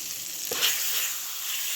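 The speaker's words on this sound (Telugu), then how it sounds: "మనం చేసి పెట్టుకున్న ఈ అల్లం పచ్చడిలో ఈ పోపునంతా కలిపేసేసుకోవాలి." A hot tempering sizzles for ginger chutney in a steady close hiss, with a brief stir or spoon stroke near the middle. No speech is heard.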